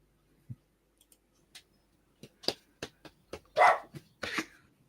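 A dog barks several times in short, sharp bursts, fairly quiet and irregularly spaced, with a couple of faint clicks before them.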